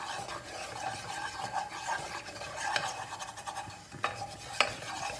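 Oil and flour being stirred together in a pot for Turkish yayla soup, a steady scraping and swishing of utensil against the pot with a few sharper knocks, close and continuous, without talk.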